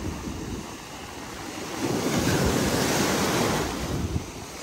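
Ocean waves surge onto a beach at Barra Velha, Santa Catarina, a continuous loud wash that builds and swells midway, with steady wind buffeting the microphone throughout.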